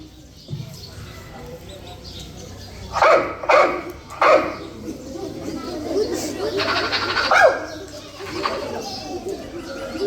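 A handful of sharp dog barks stand out in a short burst, with birds chirping and background chatter around them.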